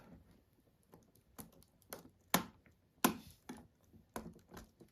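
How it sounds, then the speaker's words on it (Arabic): A laptop keyboard is pried up and lifted out during a repair, a series of irregular plastic clicks and taps, with two sharper snaps standing out among softer handling noises at close range. "خطوة مهمة جدا اللي هي رفع الكيبورد"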